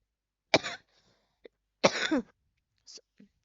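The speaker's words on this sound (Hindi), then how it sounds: "मेरे को खांसी इतनी खतरनाक हो रखी है" Two harsh, explosive coughs about a second apart, close and loud, each followed by quieter throaty catches and short rasping breaths.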